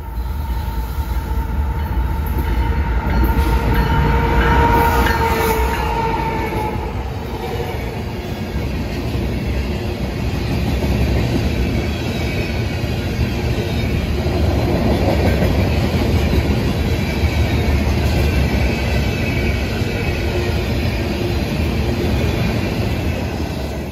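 Eastbound freight train rolling steadily past outdoors at Holland, Ohio, with a Canadian National painted DPU locomotive in the consist, producing a loud continuous rumble and clickety-clack of wheels over rail joints, with faint squeal, and no talk.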